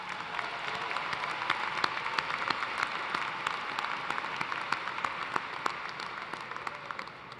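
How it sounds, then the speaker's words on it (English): Sustained audience applause for a university wind ensemble at a fall commencement ceremony, a dense, steady wash of many hands clapping throughout with no speech over it. "Let's give them a round of applause."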